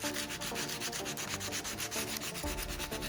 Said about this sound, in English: I will do another round of sanding, which will hopefully get rid of any residual marks, as well as smoothen the plastic